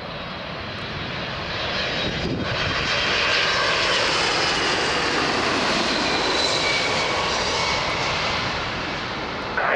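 UPS jet aircraft at Toronto Pearson airport, a loud sustained engine roar with broadband rushing noise, heard from nearby and holding steady throughout.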